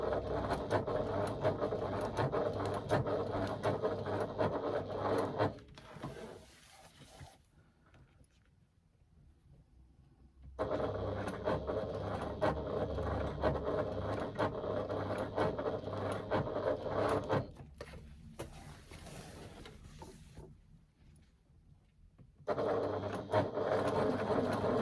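A sewing machine runs steadily in two long stretches of whirring, rattling stitching, each broken by quiet pauses where the motor stops. No one speaks.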